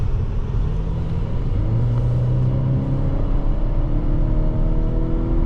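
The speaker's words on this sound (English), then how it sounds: "So this is full throttle. Some good smooth acceleration." A 2022 Volvo S60 B5 R-Design AWD accelerates at full throttle, its engine a loud, steady low rumble with a smooth rising drone heard from inside the cabin.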